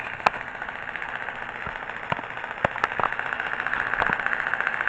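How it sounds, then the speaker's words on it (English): An electric motor in a Lego RC car, powered by a Mould King battery box, holds a steady idle: a continuous mid-pitched hum with a few sharp clicks and a slight rise near the end. "Takes a couple tries to get where you want to idle,"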